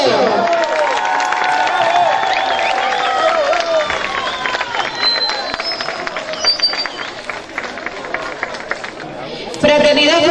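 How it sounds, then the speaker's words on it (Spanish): Applause and cheering from a crowd at an outdoor folk parade certificate ceremony in Benimàmet, sustained clapping mixed with chatter, loud voices and music throughout. "¡Un fuerte aplauso!"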